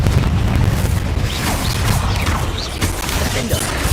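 Loud, dense blast effects from the Confringo fire spell in Hogwarts Legacy fill the clip, with booming bursts and crackling debris layered over a sustained wash of game noise.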